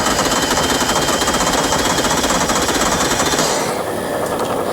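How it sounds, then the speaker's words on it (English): Loud, rapid mechanical hammering as the drill weapon in ULTRAKILL fires without pause, then eases slightly in the final second. "shooting it makes a drill go into an enemy."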